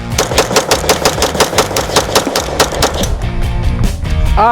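A PSA Compact Dagger, a budget Glock-clone handgun, fires a rapid string of shots, more than a dozen sharp, loud reports in a fast even rhythm before stopping, with a brief metallic clatter at the end.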